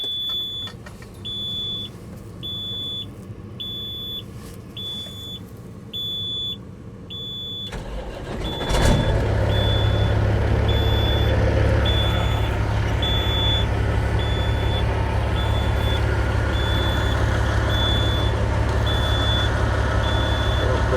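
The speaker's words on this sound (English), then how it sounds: "So I'm gonna start the truck, check the oil pressure." A truck's engine cranks and starts about eight seconds in, then settles into a loud, steady idle; before it catches, a repeated electronic chime beeps quietly and a voice speaks briefly.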